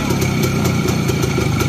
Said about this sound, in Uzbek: Motori zo'r ishlayapti, motor chiyillab ishlayapti aka